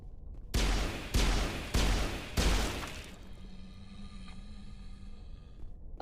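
Four loud, sharp explosive bursts evenly spaced about half a second apart as enemies blow up in Mass Effect combat, then a low rumbling game ambience with faint tones.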